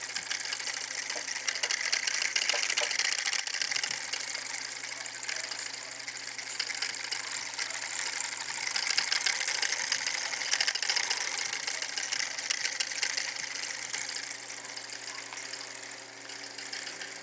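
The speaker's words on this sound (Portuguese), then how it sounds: "É que é o funcionamento de três motores ligados em paralelo." Three electric motors wired in parallel run together with a continuous mechanical whir and faint ticking rattle, steady and moderate in level for the whole stretch, with no talk.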